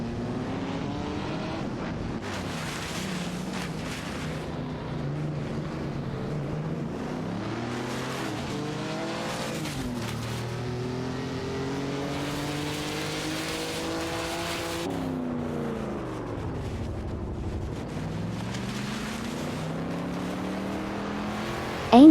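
Race car engines from an AI racing video game, among them a Nissan Skyline 2000 GT-R and an Aston Martin DB5 Vantage, drone and rise through repeated gear-change sweeps, a continuous layered roar of several cars.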